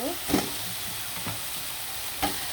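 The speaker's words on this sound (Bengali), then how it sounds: "এখানে হলুদ মরিচ জিরা গরম মশলা সব মশলা দিয়ে দিলাম দিয়ে ভালো করে কষিয়ে নিলাম" Ground turmeric, chili, cumin and garam masala frying in a pan for a chicken curry, a soft steady sizzle broken by a few louder stirring scrapes.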